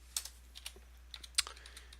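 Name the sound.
typing on a computer keyboard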